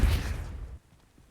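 Depulso push spell firing in Hogwarts Legacy, a forceful booming whoosh that hits hard at once, rumbles for under a second, then cuts off sharply into near silence.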